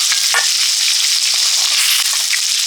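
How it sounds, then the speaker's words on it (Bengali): Lentil dumplings (bori) fry in a pan with a loud, steady, close sizzle that holds evenly throughout, with no voices. "বড়িগুলো ভেজে নিচ্ছি"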